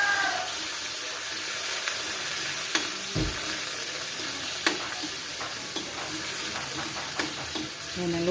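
Ingredients sautéing in hot oil in a pan for a family dinner at home, a steady close sizzle with a few sharp utensil clinks and scrapes against the pan, no talk.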